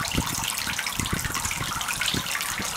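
Toy worms spray water outdoors, a continuous hissing gush broken by soft splashes and patters, close and fairly quiet.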